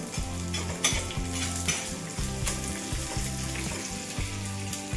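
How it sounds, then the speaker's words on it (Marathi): Moth bean lentils, sesame seeds and spices crackle and rustle as they are stirred across a hot dry griddle, a steady scraping sizzle with a low rhythmic hum underneath. "आता हे सर्व छान असं भाजून घ्यायचं आपल्या तव्यावरती."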